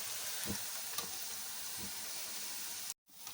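Onion pakoda frying in hot oil, with a steady, even sizzle close by and a few faint bubbling pops. It cuts out briefly near the end.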